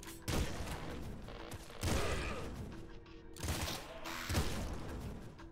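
Weapon shots in the video game Nuclear Throne come as four sharp, punchy bursts at roughly even intervals, each trailing into a rattling decay, played fairly quietly.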